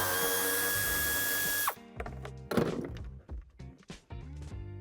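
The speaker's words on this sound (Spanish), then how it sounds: "Justamente donde apoya la bandeja tendremos que quitar el otro tornillo." Cordless driver spins steadily and loudly for about a second and a half while backing a screw out of interior trim on a 2019 Audi A6 Allroad, then stops, followed by close clicks, rattles and plastic knocks.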